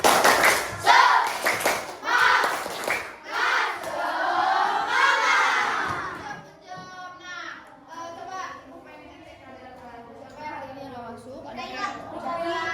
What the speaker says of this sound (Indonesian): Tepuk semangat ya. Tepuk semangat.